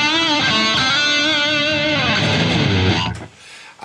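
An electric guitar runs through a Boss Katana amp's FX loop with delay and reverb. Loud sustained, distorted notes bend and shimmer, then the tone cuts off near the end, leaving a brief tail of noise.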